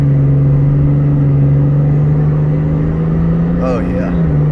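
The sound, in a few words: diesel truck accelerating in race mode with pedal controller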